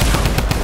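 Fortnite gunfire in rapid bursts, a loud, dense volley of close shots over less than a second with no talk.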